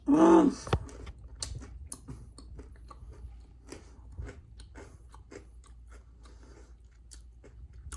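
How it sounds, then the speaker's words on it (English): A loud bite into a crunchy homemade grissini breadstick opens with a sharp snap, followed by steady close-up chewing crunches that fade into quieter munching. "you hear that crunch?"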